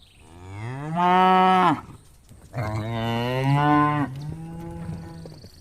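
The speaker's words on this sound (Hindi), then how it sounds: "गोपाल अपने भैंसे को खाने में सूखी घास या चारा देता था" A cartoon buffalo moos in a few deep, drawn-out lowing calls, one after another with brief gaps, loud and close with no voices over them.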